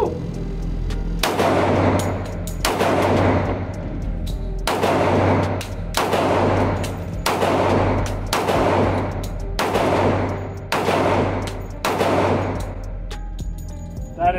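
A Glock 10mm handgun fires about eight loud, sharp shots at a steady pace of roughly one every one and a half seconds, each report ringing out in a decaying tail.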